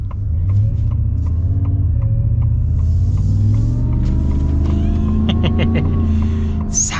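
A supercharged 2025 Ford F-150 Black Widow truck engine runs with a deep, steady rumble and low drone, close and loud, holding smooth throughout.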